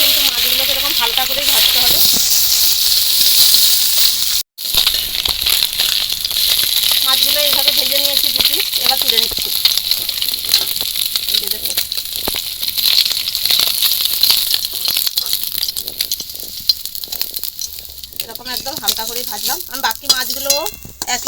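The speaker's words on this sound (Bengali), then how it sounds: "এইভাবে ভেজে নেব" Food frying in a kadai for a homestyle Bengali recipe, a steady bright sizzle with occasional stirring scrapes running throughout, while someone speaks over it.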